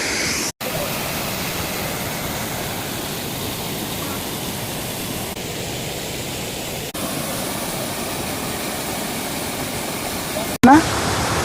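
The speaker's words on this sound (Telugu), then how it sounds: "పరిటాల దొనబండ మధ్యలో ఉన్న వాటర్ ఫాల్ అయితే మనం సక్సెస్ఫుల్గా ఎక్స్ప్లోర్ చేయడం అయింది" A waterfall at Donabanda near Paritala and Gottemukka roars as a steady, even wash of rushing water that fills the whole span, broken only by two brief dropouts.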